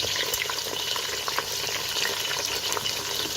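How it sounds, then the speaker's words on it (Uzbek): Apple slices frying in a pan of hot oil, a loud, continuous close sizzle with light crackles and occasional stirring. "Olmalarimizni ham xuddi shu shaklda birin-ketin 1 daqiqaga qovurib olamiz."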